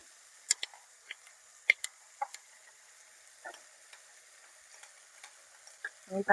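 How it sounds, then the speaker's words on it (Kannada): Curry leaves and chillies fry in a pan for a pepper chicken dish, a soft hiss under scattered sharp pops and crackles, with a few louder spits near the end. "ಅದನ್ನ ಚೆನ್ನಾಗಿ ಫ್ರೈ ಮಾಡ್ಕೊಂಡಾದ್ಮೇಲೆ"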